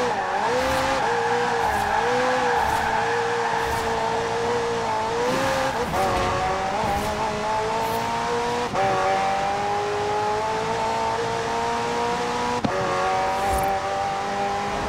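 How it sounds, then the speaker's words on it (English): A McLaren hybrid twin-turbo V8 with electric motor assist in the racing game Forza Horizon 4, its engine note droning steadily and climbing through gear changes, with occasional tire squeal, loud and close throughout. "The car's blistering performance is delivered by a twin-turbo V8, supplemented by a McLaren ECU electric motor and instant power assist system."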